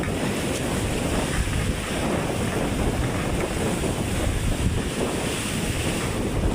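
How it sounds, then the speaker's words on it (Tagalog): Strong wind at sea whips up whitecapped waves around a small boat, a continuous loud roar of wind buffeting the microphone over rushing water, with no talking. "Yung lakas ng hangin kaya namumuti yung alon."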